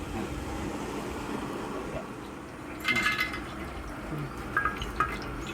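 Liquid is poured into a pot while ice apple (nungu) payasam is cooked in a home kitchen. A low, continuous trickle and splash runs throughout, with a few sharper clinks and splashes partway through.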